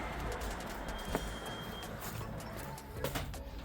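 Racing pigeons perched on a rooftop give soft, low cooing calls, faint and intermittent against quiet background noise.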